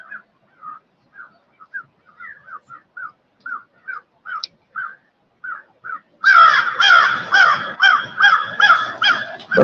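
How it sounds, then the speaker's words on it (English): Crows cawing outdoors beside a river tributary, first a string of single scattered caws, then a dense, loud chorus of many birds calling over one another. "Birds are going crazy."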